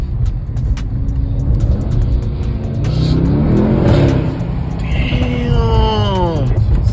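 Mercedes-Benz E63s engine revving and accelerating on a ride-along, a loud sustained rumble that climbs in pitch near the end, heard from inside the car with faint voices in the background.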